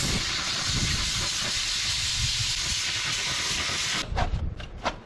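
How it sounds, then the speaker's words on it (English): Compressed air blasts steadily through an old tractor air cleaner in a loud, continuous hiss for about four seconds, then breaks into a few shorter sputtering bursts. "Blow out the old air cleaner while we're at it."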